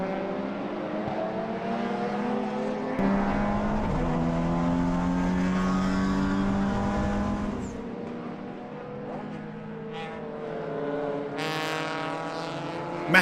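Race cars including a Toyota Corolla at Sydney Motorsport Park, loud engines roaring and shifting pitch as they pass close by, one after another, in a continuous racing din.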